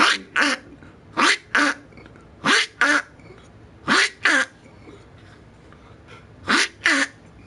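A person sneezes four times in loud, close paired bursts, each double blast spaced about a second and a half apart over quiet room tone, with no talking.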